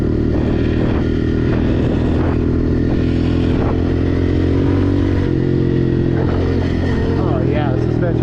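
Honda CRF125F dirt bike with its stock exhaust, running steadily and quietly while lugging in gear, a continuous low engine drone throughout with some rattling and wind noise, and a person talking over it.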